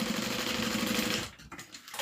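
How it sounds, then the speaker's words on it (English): A sewing machine stitching open a seam on a fabric satchel, a close, dense buzzing whir running for just over a second before it stops, leaving only quiet handling noise. "I'm going to go ahead and sew open my seam."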